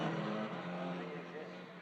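Abarth-powered Italian F4 race cars circulate slowly behind the safety car at Monza, exiting the Parabolica. A steady engine drone runs throughout beneath continuous commentary.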